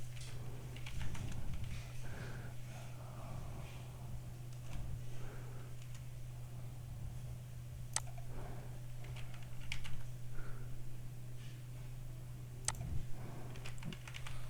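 Steady, light tapping on a computer keyboard continues for several seconds, with occasional sharper key clicks over a constant low electrical hum.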